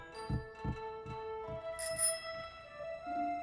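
A bicycle bell rings several times in quick succession, each strike a bright metallic ding that rings out briefly, with a faint background hum and no talking.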